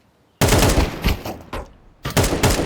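Gunfire in Counter-Strike, loud close rapid bursts of automatic fire that stop briefly and then start again.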